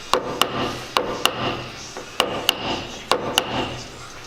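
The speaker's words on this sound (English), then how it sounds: "I like using this piece of wood because it gives it a nice, good hit" Sharp, close wooden taps come in quick pairs as a wood block strikes a dent removal tool, repeated several times with short pauses between, with faint rubbing noise in the gaps.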